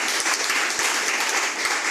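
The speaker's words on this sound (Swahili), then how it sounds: "Kama tuko pamoja, pigia Yesu makofi mazuri." A church congregation breaks into sustained applause, a dense wash of many hands clapping at once, steady and loud throughout the hall.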